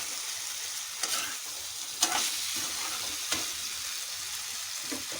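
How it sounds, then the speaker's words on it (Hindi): Onions and spices fry in oil for keema-stuffed capsicum, giving a continuous close hiss of sizzling broken by three or four sharper clicks and scrapes of stirring. "उसी में ये सारी चीज़ें जो है फ्राई हो रही है, बन रही हैं"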